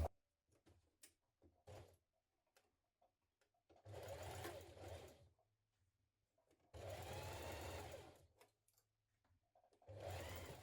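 Sewing machine stitching a blouse facing to its band, three long bursts of steady whirring motor with shorter taps and handling noises between them.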